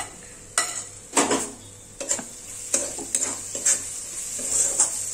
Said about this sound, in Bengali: এই মশলাগুলো দিয়ে পেস্টটাকে আরেকটু ভালো করে কষিয়ে নেব।